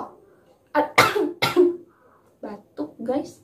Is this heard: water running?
no